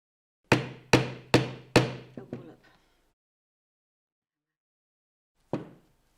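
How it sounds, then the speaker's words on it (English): Hammer bashing a press stud into a pair of jeans, four sharp loud blows in even rhythm followed by three lighter quick taps, then silence and one final knock, close and alone. "I like to make sure with a few bashes with a hammer"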